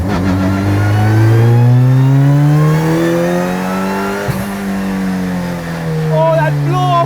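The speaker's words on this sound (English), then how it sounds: "that blow off right here. And that straight pipe exhaust." A mid-engine turbocharged Volkswagen Polo RX with straight-pipe exhaust revs and pulls hard with a deep, rising exhaust drone, then a brief sharp turbo blow-off burst as the throttle lifts, continuing over a rough idle.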